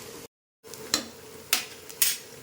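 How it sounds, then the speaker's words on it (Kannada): Onions and green chillies frying in oil for a biryani, heard as a soft steady hiss broken by three sharp scrapes and clinks of a utensil stirring in the pan, with a brief silent gap near the start. "ಇವಾಗ ನಾನು ಎಣ್ಣೆಗೆ ಈರುಳ್ಳಿ ಮತ್ತು ಹಸಿಮೆಣಸಿನ್ಕಾಯಿ ಎಲ್ಲ ಹಾಕಿದ್ದೀನಿ. ಚೆನ್ನಾಗಿ ಫ್ರೈ ಮಾಡ್ಕೊಳ್ಳಿ."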